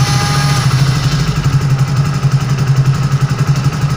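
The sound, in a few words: motorcycle engine starting and idling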